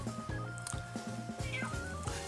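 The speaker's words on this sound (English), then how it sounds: "Okay, Rocky, here's a good kitty." A cat meows a few times, fairly close, over a steady low background hum with no talk.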